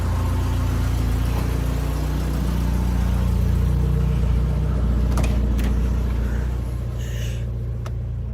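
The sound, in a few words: Toyota Tercel engine running in gear with wheels spinning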